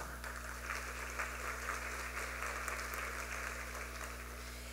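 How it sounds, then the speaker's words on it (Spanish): Audience applause at an international seminar on public legal management, a steady, fairly faint wash of clapping from a hall that sits under a constant low electrical hum and continues evenly without speech. "Lo recibimos con un fuerte aplauso."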